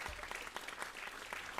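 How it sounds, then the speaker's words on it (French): An audience at an agri-food brand launch conference applauds a speaker coming up, a soft, even patter of clapping sustained through the moment at a modest distance. "Merci de l'applaudir, s'il vous plaît."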